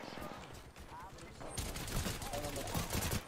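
Rapid bursts of Apex Legends gunfire crackle continuously, growing denser and louder halfway through, with no talking.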